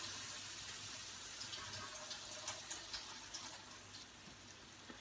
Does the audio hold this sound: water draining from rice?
yes